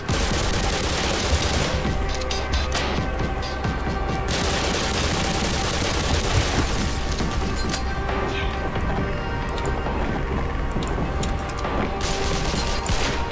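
Dense gunfire from enemies in the Black Mesa shooter game rattles almost nonstop, loud bursts of automatic fire and shots layered with mechanical game effects throughout.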